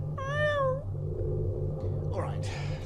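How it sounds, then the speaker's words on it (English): A cat gives one clear, close meow with a rising and falling pitch, set against a low, rhythmic background hum and some later rustling. "I can see a cat."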